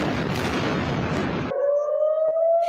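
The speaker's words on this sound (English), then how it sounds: "Air raid sirens sounding across Israel" Air raid sirens sound across Israel. A dense burst of noise cuts off abruptly and gives way to a steady, rising siren wail heard from a distance.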